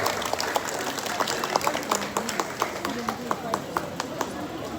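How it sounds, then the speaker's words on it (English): Audience at a Manipuri Patriot's Day observance in Kolkata applauds the guest of honor, steady scattered clapping with sharp individual claps over a murmuring crowd and background voices throughout. "Big round of applause for Jacob."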